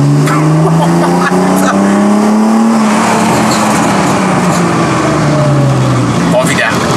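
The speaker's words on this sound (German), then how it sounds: "Und jetzt fahren wir so 2500 Umdrehungen. Und jetzt tritt mal Vollgas rein." A tuned BMW 7 Series pulls hard at full throttle in second gear from about 2500 rpm, its loud engine note climbing steadily in pitch, heard from inside the car.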